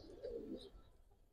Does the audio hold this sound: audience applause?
no